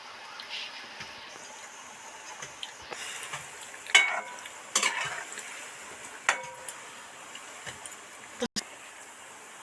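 Banana fritters fry gently in oil over a low flame, giving a soft, quiet sizzle broken by a few sharper clinks and scrapes of a spatula.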